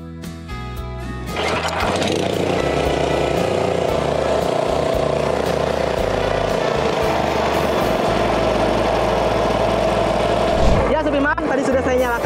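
A 7.5 hp FGE220HD fishing boat engine cranks, catches and settles into a loud, steady running drone that continues near and strong throughout, with a brief surge near the end.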